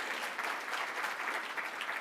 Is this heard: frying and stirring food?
no